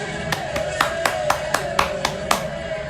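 A baseball manager clapping his hands at RFK Stadium, about nine sharp claps in a loose steady rhythm over a background of low murmur.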